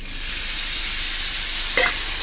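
Green chillies and onions fry in a pan with a steady, loud hiss of sizzling oil and a brief scrape of stirring near the end.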